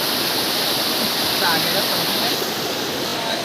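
River water on a scenic roadside outing rushes in a steady, loud, broadband roar that stays constant throughout, like a small waterfall or fast stream close by.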